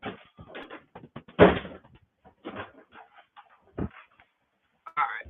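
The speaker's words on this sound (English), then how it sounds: "I gotta close the door." A door knocks and bangs shut indoors among scattered thumps and rustles, with a loud close impact near the middle and quieter knocks after.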